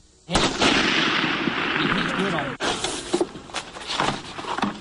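A US Army sniper rifle fires at a sniper school range: a sharp, loud report that rolls into a long echoing boom, followed by a second crack a couple of seconds later, with faint voices around.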